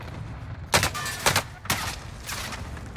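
Rapid bursts of gunfire crack in Call of Duty: Warzone Rebirth duos, three or four sharp volleys coming close together over a low background hum, with some player chatter mixed in.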